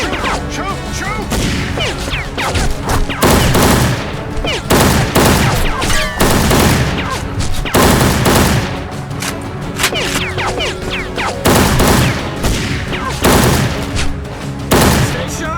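Heavy, continuous gunfire in the Secret Service shooter game, loud repeated bursts and crashing impacts filling the whole stretch, with shouted voices mixed in.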